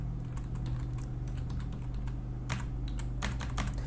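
Fingers type an email address and password on a computer keyboard in quick, close, irregular bursts of clicking over a steady low hum, with a denser flurry of keystrokes near the end and no talking.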